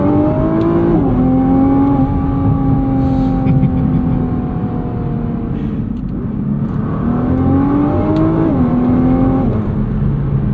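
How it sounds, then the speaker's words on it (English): The 2023 Nissan GT-R Premium's engine rises and falls through revs from inside the car, a loud steady drone with gear-change shifts; pops and burbles on the down rev are not clearly distinct. "we have some pops and burbles on the down rev"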